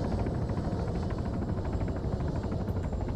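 Helicopter engine in the game Arma 3, a dense steady roar with a fast rotor pulse, loud and unbroken throughout with no voices.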